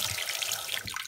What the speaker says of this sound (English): We'll let that water out.